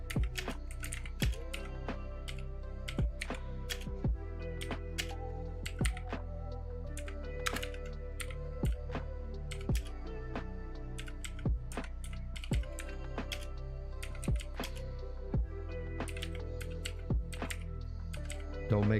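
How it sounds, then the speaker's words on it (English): Steady typing on a computer keyboard with fast irregular key clicks and periodic heavier keystrokes, close and clear, with no talking. "Don't make fun of my typing either."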